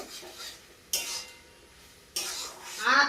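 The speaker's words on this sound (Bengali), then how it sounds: "ভালো করে কিন্তু এখন নেড়ে ছেড়ে" A spoon scrapes and stirs mango chutney cooked with small fish in a village-style pan, two distinct bursts of stirring with quieter pauses between and a faint sizzle underneath.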